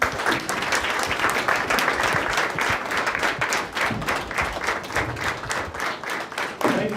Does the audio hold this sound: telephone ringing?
no